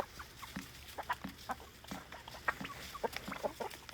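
Chickens on a small farm cluck in short, irregular bursts, several near calls scattered over a steady low background hum, with no talking.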